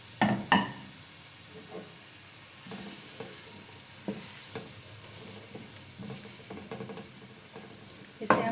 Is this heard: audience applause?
no